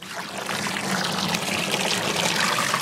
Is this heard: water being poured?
yes